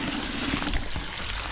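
Dirty water, just used to rinse out the foams of a small, long-uncleaned pond filter, poured back into the filter in a steady, continuous splashing stream that runs close and fairly loud throughout.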